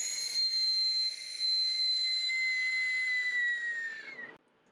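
A loud, breathy, piercing shriek from a 3D-printed Aztec death whistle, with a hissing, windy edge, holds for about four seconds before cutting off sharply.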